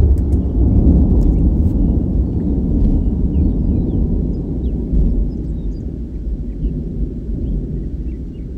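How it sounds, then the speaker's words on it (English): Deep thunder rolls from positive cloud-to-ground lightning strikes during a tornadic supercell near Norman, Oklahoma, a long low rumble heard from a vehicle with open windows that swells early and slowly fades, with faint birdsong over it. "We're getting big old positive cloud to ground lightning strikes right now."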